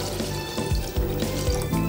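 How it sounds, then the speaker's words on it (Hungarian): Water is poured into a hot pan of chicken and giblets, bringing a rush of liquid and a hissing sizzle, close and steady with no talk. "Most feleresszük egy kis vízzel."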